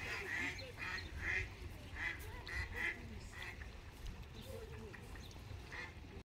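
Ducks quack in a repeated, moderately loud series of nasal calls outdoors near Salzburg, with a steady background murmur and a little speech underneath.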